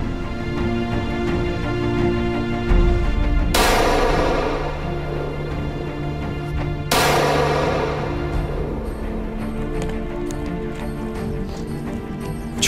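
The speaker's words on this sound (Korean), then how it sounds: "총소리와 함께 사냥이 끝났습니다." Two rifle shots a few seconds apart, each a sharp crack with a long echoing tail, during a Mongolian nomads' wolf hunt on the winter steppe, over steady background noise.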